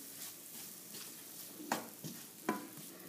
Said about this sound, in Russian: Сейчас я добавлю к моркови и к луку его. Все тщательно перемешаю.